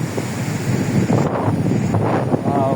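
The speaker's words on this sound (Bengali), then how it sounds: "কত বাতাস" Strong wind gusting across a microphone at an amusement park on Eid, a steady loud rush with buffeting throughout.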